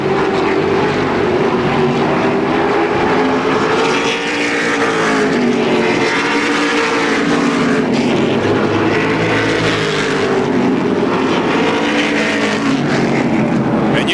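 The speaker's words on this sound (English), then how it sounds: "You can definitely hear the engine misfiring in the 96 machine of Mark Pohl." Race cars roaring around a speedway, with the 96 machine's engine misfiring amid a dense, continuous loud engine drone with sweeping pitch as cars pass close by.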